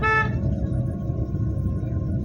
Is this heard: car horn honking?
yes